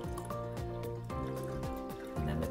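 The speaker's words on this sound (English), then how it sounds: "slowly start to add some water to the glass" Water trickles slowly into a glass during a kids' science experiment, a steady liquid pour with shifting ringing tones that continues throughout at moderate loudness, with no speech.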